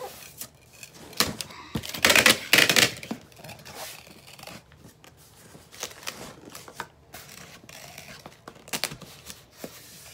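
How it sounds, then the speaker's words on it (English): Packing tape being pulled and pressed onto a cardboard box used to pack a wreath, with ripping tape bursts, a louder stretch near the start, and scattered crinkles and taps close by. "I'm gonna put a lot of tape on here."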